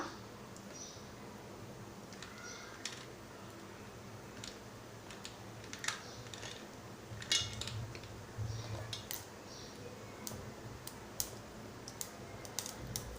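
Quarter teaspoon of mustard seeds spluttering in hot oil for a Malvani kulith pithla, sharp scattered pops and clicks over a low faint hiss, irregular and close, with no talking.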